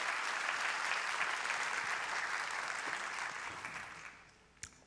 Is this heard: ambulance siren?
no